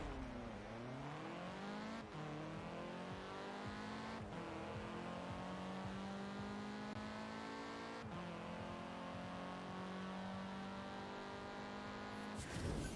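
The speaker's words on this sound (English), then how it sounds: "we're going to test how the vehicle does in a drag race" A car accelerates hard down a drag strip in Forza Horizon, its engine note climbing in loud, sustained revving sweeps, with each sweep cut off by a brief gear-shift break across the run.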